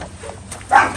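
A single short, fairly loud dog bark at a moderate distance outdoors, following a brief quiet stretch.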